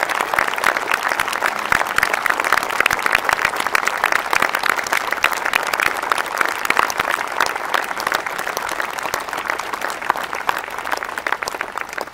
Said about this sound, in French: je voudrais que vous puissiez les applaudir très fort